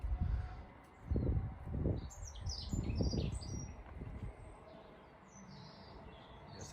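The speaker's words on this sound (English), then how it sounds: "Hear the birds twittering" Birds twittering in a garden in mid-February: light high chirps in short bursts, fairly faint, over louder low rustling and handling noise close by.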